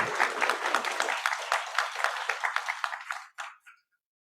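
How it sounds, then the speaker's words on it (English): An audience at a town hall meeting on the Roosevelt Boulevard subway claps in a steady burst of applause that thins out and stops after a few seconds, with no talking over it. "big round of applause for Anthony"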